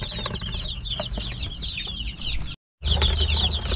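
Free-range chickens and two-week-old chicks, a few of them pure kabir, cluck and chirp steadily and close at hand, with a brief dropout in the middle before the flock noise comes back loud.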